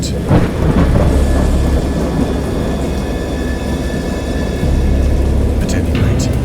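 Deep rumbling thunder rolls over a steady wash of heavy rain, loud and continuous, with a low drone swelling at times.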